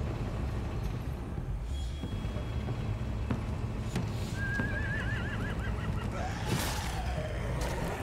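A horse in the video game The Walking Dead: A New Frontier whinnies briefly over a steady bed of background noise, with a faint clip-clop and distant ambient sounds.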